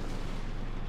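Cannon blast from a World of Tanks match, with shells fired from tanks such as an E-75 and a T-62A: a dense, loud, sustained low boom filling the whole second with no talk.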